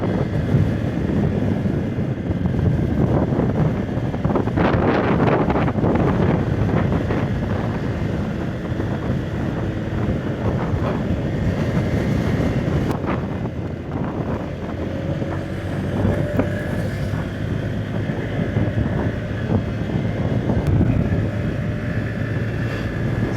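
Steady wind buffeting the microphone at a beach resort in Calatagan, Batangas, over a low rumble of moving water and a boat, continuous and fairly loud throughout.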